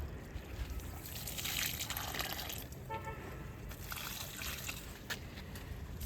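Water is poured onto freshly planted chilli plants, a soft, quiet trickle and splash that rises and falls over several seconds with faint background noise.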